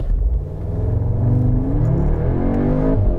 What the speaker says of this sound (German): Auch hier könnte ich mal kurz ausprobieren zu beschleunigen